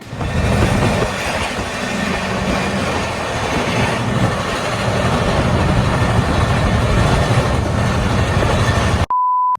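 The Kolkata–Agra Cantt Express runs loud and close on the rails, with a steady roar and a rhythmic clickety-clack of wheels throughout, a faint squeal, and a short electronic beep cutting in at the very end.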